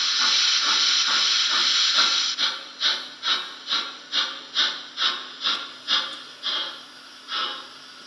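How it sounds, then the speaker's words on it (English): A Trix HO model locomotive with a smoke generator runs on a Gaugemaster DCC system at just over 17 volts, giving a steady hiss that breaks into a rhythmic series of chuffing steam puffs, close and fairly loud. "Here's the loco running on my lens system. I've got it set at just over 17 volts to the track."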